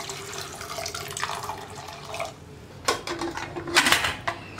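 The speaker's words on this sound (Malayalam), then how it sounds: "നമുക്കിതിലേക്ക് പയർ കുക്കാവാൻ ആവശ്യമായിട്ടുള്ള വെള്ളവും കൂടി ചേർക്കാം." Water is poured into a pot of soaked beans being readied for pressure cooking, a close splashing pour with a couple of louder gushes near the end and light clinks of the vessel, with no speech.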